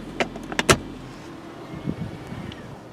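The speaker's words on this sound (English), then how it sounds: "The motor was just charging the electric battery there, so it just shut off there" A 2016 Toyota Prius Three's petrol engine, idling to charge the hybrid battery, cuts out as sharp clicks and a thump ring out early, leaving a low, quiet cabin hum.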